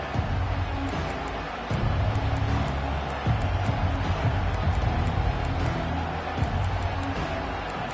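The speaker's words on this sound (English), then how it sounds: "This crowd bringing an ear-splitting welcome to their visitors" Stadium crowd at a college football game, SEC against Big Ten, roaring through the opening kickoff, a dense continuous roar with swells of cheering, heard from a distance.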